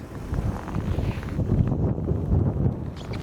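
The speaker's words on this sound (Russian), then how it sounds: "Ветер, ага, здесь дует уже." Gusty wind buffets the microphone with low rumbling at the top of a hill in Yakutia at about -40 degrees, rising and falling in strength throughout, with no one speaking.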